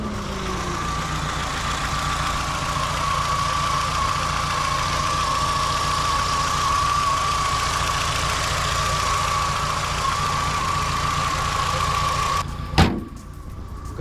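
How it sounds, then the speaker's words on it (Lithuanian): A car engine running on a BRC gas system idles steadily, with an even mid-pitched drone and a faint tick, close by and without talk. A brief thump breaks in near the end. "Parodys, kaip variklis dirba"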